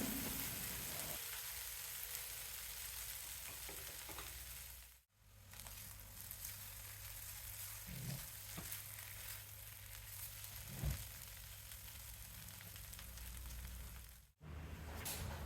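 Potato pieces frying in oil in a pan, a soft, steady sizzle that runs evenly for several seconds with faint occasional clinks and two brief dropouts, no voices.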